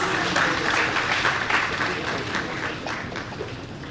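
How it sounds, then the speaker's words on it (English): A university day audience applauds rank holders with a dense, steady wash of clapping that stays fairly loud and close, then eases slightly toward the end. "Please give them a big round of applause."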